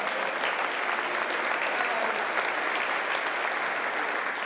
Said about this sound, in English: give Tom a round of applause